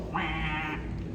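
A voice imitates a train whistle, holding a single wavering, reedy tone for under a second before it fades out.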